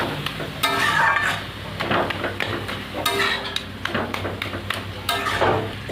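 Leafy greens wilted down in a pan are stirred and fried, with a steady sizzle under repeated scraping and clattering strokes of a spatula against the metal, close and fairly loud, no talking.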